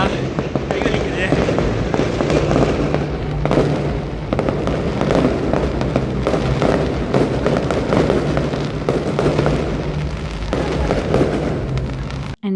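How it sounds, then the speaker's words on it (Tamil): Dense, continuous crackling of firecrackers bursting nonstop in Vietnam, loud and close, with voices faintly mixed into the barrage. "தெரிக்க விட்றானுங்களே பட்டாசை."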